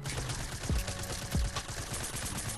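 Two sharp, heavy sniper rifle shots ring out in a console shooter game, spaced about half a second apart over busy in-game background noise.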